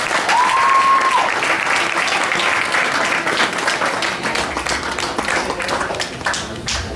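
An audience claps and cheers steadily for Harmony Samuels at a live event, a dense roomful of applause with a brief whistle early on, gradually thinning toward the end.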